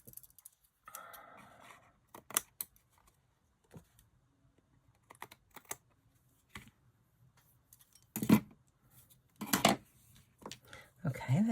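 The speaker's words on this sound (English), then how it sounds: "Now I'll cut off the excess." Scissors snipping excess paper from a handmade Christmas ornament card, a scattered series of sharp, close clicks and cuts that grow louder toward the end, with quiet gaps between them.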